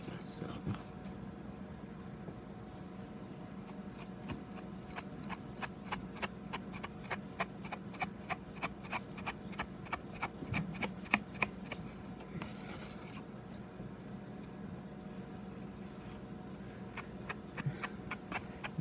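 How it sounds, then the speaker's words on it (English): Paper slides and rubs across a desktop during card-making, giving soft repeated scuffing and rustling strokes that come close and faint throughout, with occasional quiet ticks of handling. "My paper keeps sliding all over my desktop"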